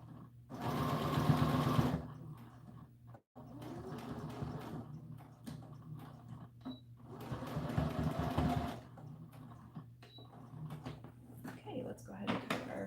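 A sewing machine runs in several bursts of rapid stitching, stitching ribbon along the bottom edge of a doll dress. Short pauses separate the runs, and a voice speaks quietly between them.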